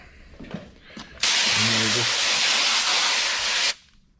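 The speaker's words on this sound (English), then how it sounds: "And then I can spritz it a little bit with the hose. I'll put it on mist so it doesn't just soak them." Garden hose on a mist setting spraying water into a breeding bin, a steady loud hiss lasting about two and a half seconds then cutting off, with faint talk before it.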